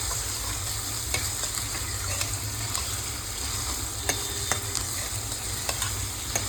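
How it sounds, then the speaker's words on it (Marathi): Spices sizzling steadily in hot oil for a spicy mutton curry, a constant close frying hiss with occasional light scraping clicks as they are stirred, no voices. "चांगलं हलवून घ्यायचं"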